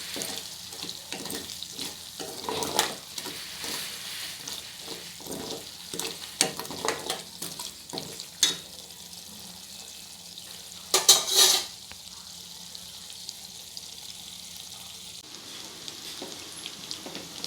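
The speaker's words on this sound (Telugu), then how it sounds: "ఈ అల్లం వెల్లుల్లి పేస్ట్ పచ్చివాసన పోయేంత వరకు వేయించుకుందాం అండి ఆయిల్లో" Ginger garlic paste fries in oil for a fish pickle, a continuous sizzle with repeated spoon scrapes and clinks against the pot, and one brighter metallic rattle partway through.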